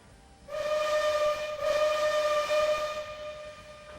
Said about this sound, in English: Passenger train, take 1.